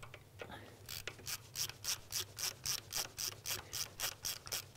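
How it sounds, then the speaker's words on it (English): A ratchet clicks in an even, rapid rhythm while loosening the radiator top hose clamp on a Citroën DS21, a close series of about a dozen sharp metallic strokes. "I'm now going to take off the top hose as part of the process of removing the radiator"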